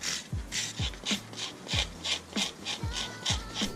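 Rhythmic sanding strokes rasp across rubber tire letters for a Rocket Bunny FRS, about ten steady back-and-forth rubs heard close up with no talking.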